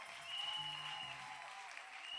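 A church congregation applauding during a Sunday service, a soft continuous patter of clapping heard from a distance and fairly faint, with some low murmuring voices underneath.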